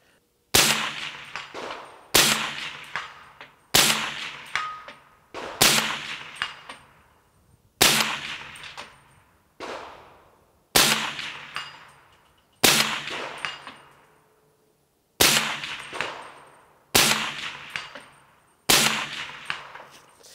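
Ten evenly spaced, sharp shots from a suppressed Doublestar ARC 300 semi-automatic carbine firing 300 Blackout, each a crisp crack with a quick decaying ring, fired about every two seconds with no talk.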